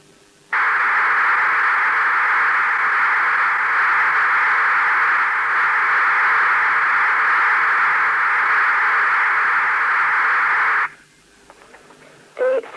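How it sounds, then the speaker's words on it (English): Continuous data transmission on a British telephone line from 1971, a steady loud modem hiss-tone band holding unbroken for about ten seconds before cutting off, followed by faint line noise. "Or a continuous data transmission like this."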